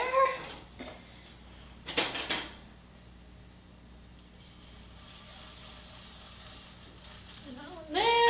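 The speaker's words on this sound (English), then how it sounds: "I'm just going to bring it this way so that the oil runs over. And I can put that patty there." A sweet potato patty frying in oil in a pan gives a soft, faint, steady sizzle, with a brief clatter of the pan near the start.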